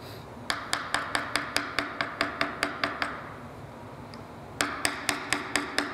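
A mallet taps an axle through a hole on a mouse trap car, about a dozen quick even knocks, a short pause, then another run of taps, close and crisp.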